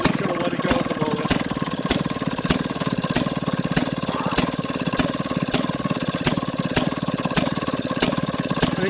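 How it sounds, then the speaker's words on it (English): A 1937 Maytag 92 washing machine engine runs steadily, its regular sharp firing pops repeating about every half second over a constant mechanical chatter, close and loud throughout. "this is the first model engine Maytag put on the washing machines"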